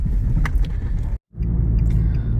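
Nissan X-Trail driving with a loud, steady low engine and road rumble, briefly cutting out to near silence for a moment before resuming at the same level; diagnosed fault was the upper catalytic converter.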